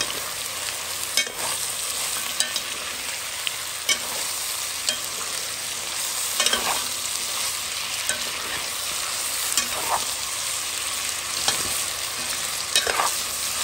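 Onions fry in a pan for lamb chop masala, a steady close sizzle broken by periodic scrapes and clacks of stirring, with no voices.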